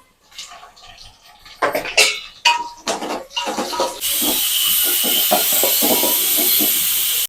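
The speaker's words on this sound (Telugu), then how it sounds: "ఇప్పుడు టమాటా వేస్తున్నా, బాగా పండింది." Ripe tomatoes tossed into a hot pan for a country chicken curry: a few utensil clatters, then a loud, steady hiss of sizzling that holds to the end.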